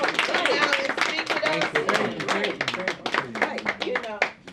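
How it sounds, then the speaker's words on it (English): An audience claps at a public talk on gentrification featuring a mayor and a professor, a dense patter of hands that runs steadily for several seconds beneath an ongoing voice. "Let's give him a round of applause."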